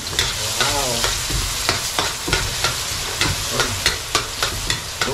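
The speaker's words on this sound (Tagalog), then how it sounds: "Mainit ng mantika, maglalagay tayo ng luya." Ginger sautéed in hot cooking oil, a close, continuous sizzle broken by regular scraping stirs of a spatula against the pan, with no talk.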